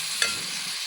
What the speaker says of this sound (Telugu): దీంట్లోకి ఇప్పుడు మటన్ యాడ్ చేయాలి. మటన్ మొత్తం వేసి బాగా కలపాలి.